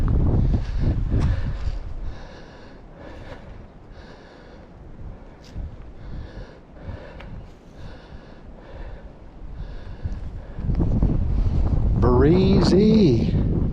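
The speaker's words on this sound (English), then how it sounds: "Breezy." Strong gusts buffet the microphone on a hilltop during a backpacking day loop at Frozen Head State Park, a low rumbling roar that eases off and swells again, with breathing and a voice near the end.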